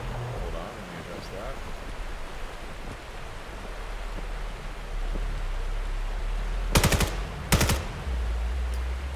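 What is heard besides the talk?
gunshots in the VR video game VAIL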